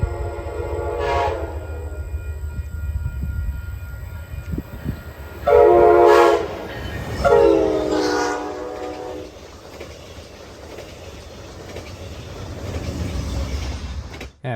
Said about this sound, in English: The horn is still very nice though.